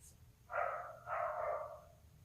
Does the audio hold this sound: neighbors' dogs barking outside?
yes